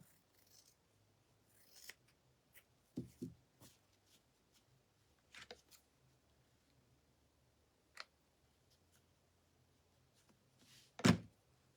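Scissors trim denim cut from old blue jeans with a handful of sharp, close snips scattered among quiet rustling and handling noises, with no voices.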